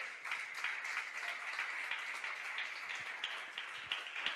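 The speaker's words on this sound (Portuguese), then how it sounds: "Pode aplaudir o nome do Senhor?" A church congregation applauds steadily, with a dense wash of many hands clapping, fairly faint and even throughout and no talk over it.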